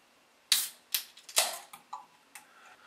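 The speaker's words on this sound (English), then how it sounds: "let's crack open this can of Mr.Mean and find out just how mean Mr.Mean really is" A can of Mr. Mean beer is cracked open, giving a few sharp clicks and a short hissing pop. Fainter metallic taps follow in a quiet setting.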